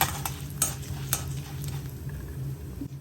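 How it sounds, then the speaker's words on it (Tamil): Urad dal and chana dal roasting in a pan for a tomato mint chutney, stirred with a utensil: rhythmic scraping strokes over a soft, continuous sizzle, close and fairly loud. "ரோஸ்ட் ஆன பின்னாடி உளுத்தம்பருப்பை சேர்த்திக்கோங்க. 2 சேர்த்து நல்லா செவக்க வறுத்துக்கலாம்."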